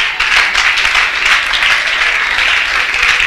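Applause from a church congregation, steady dense clapping filling the room from start to finish at fairly loud level with no talk over it.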